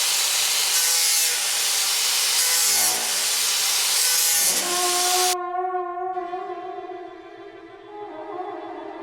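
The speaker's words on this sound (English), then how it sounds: "Sanding, filing." Steady abrasive rasping of sanding and filing a sculpture's hard surface, continuous and close, ending with a ringing tonal hum as the scraping stops.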